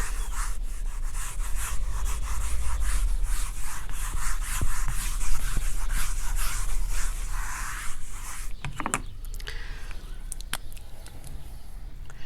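Writing being rubbed off a board during a maths lecture, a close, continuous scrubbing and brushing that carries on steadily before thinning into a few scattered knocks and scrapes.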